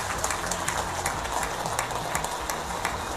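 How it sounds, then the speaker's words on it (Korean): Dense applause from a crowd at the Kim Jong Un and Putin treaty signing, steady and sustained, with sharp individual claps standing out throughout. "참가자들은 열렬한 축하의 박수를 올렸습니다"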